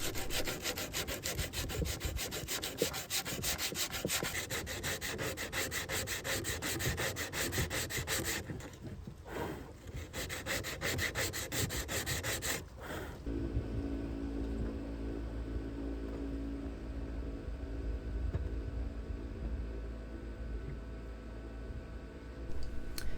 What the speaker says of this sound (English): and Jouke sends me off to do the last bit of sanding on my own.